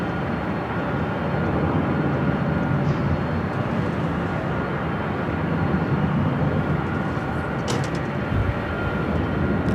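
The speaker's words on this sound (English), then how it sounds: "Lufthansa Queen, flight 457 heading back to Frankfurt." A Lufthansa airliner on flight 457 to Frankfurt takes off at Los Angeles airport, a broad, steady jet roar that stays loud and even throughout, with no talking over it.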